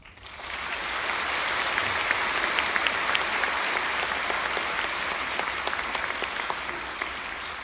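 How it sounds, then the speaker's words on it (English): A lecture-hall audience applauds a speaker named Rita, steady dense clapping that swells within the first second and holds evenly, with scattered sharper claps near the front. "Let's give Rita another round of applause."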